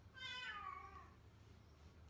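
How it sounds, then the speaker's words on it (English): A single cat meow, rising then falling, fairly soft and a little distant against a quiet background. "it looks like he's just going to stay out of sight and meow"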